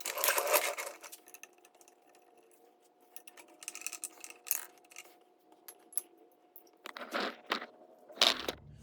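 Phillips head screws come out of the cover of a Pittsburgh 3-ton floor jack, heard as scattered metallic clicks, taps and small clatters between quiet stretches, ending in a few sharper knocks.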